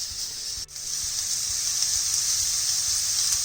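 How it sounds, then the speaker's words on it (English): Bacon laid into a hot pan sizzles loudly and steadily up close, a continuous hiss with a brief dip near the start and faint clicks underneath, no voices. "Right, so let's plonk your bacon in there."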